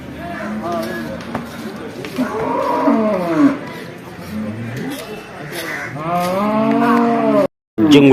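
Cattle lowing at Kollannur market, a run of long, wavering moos close by and loud, overlapping one another amid busy crowd chatter, with a brief dropout near the end.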